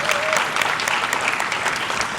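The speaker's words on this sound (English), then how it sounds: "That does deserve a round of applause in its own right." An audience at a transportation institute graduation ceremony breaks into applause, with brisk, continuous clapping from many hands at an even level throughout.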